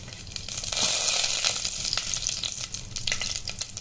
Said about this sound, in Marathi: 2 चमचे तेल टाकले आहे, यात आपण फोडणी करूया। यात मी जिरं टाकते,